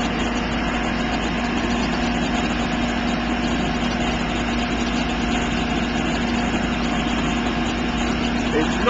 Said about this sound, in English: Wow, fire engine.